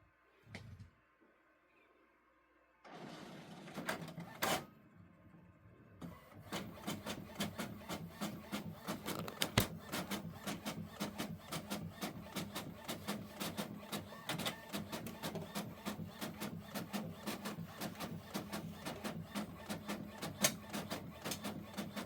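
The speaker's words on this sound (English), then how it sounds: "it will be printing shortly" An inkjet printer prints onto shipping tape: a brief startup whir and clunk, then a long, steady run of rapid mechanical ticking and the print head shuttling back and forth, close and fairly loud.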